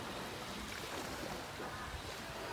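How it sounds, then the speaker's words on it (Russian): Surf washing onto the beach of a Koh Chang hotel, a steady broadband wash of waves with some wind buffeting the microphone, continuous and fairly close. "Это пляж отеля Сантия Трикочан."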